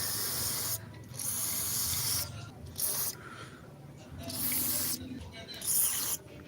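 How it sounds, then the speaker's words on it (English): Cleaner sprayed onto the MAF sensor of a ninth-generation Toyota Corolla Altis, heard as a series of close, hissing aerosol bursts, four or five long sprays separated by short pauses, with no talk. "We're gonna clean it by simply spraying on it."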